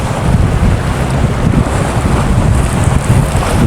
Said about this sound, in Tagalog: Nananalsik yung dagat.